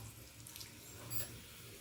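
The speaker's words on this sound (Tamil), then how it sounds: "இப்போ வந்து தண்ணி சேர்த்துக்கலாம்." Water splashes steadily into a pot for tiffin sambar, a soft continuous pour at low level with no voices.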